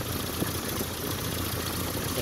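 A 1986 Nissan D21 truck engine idles steadily close up with the intake side removed, a dense continuous rumble with no talking.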